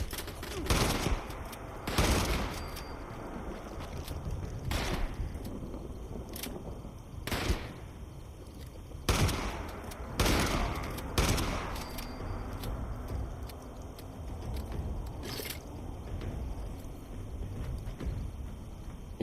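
Video game gunfire in Fallout 76, loud bursts and volleys of shots spaced irregularly over a constant backdrop of game ambience, some shots clustered in quick rapid strings.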